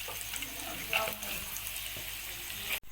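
Spinach and chana dal sizzle steadily as they roast in oil in a pan, a continuous close frying hiss with faint stirring, cut by a brief dropout near the end.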